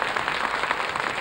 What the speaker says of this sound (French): qu'on peut applaudir très fort, cher public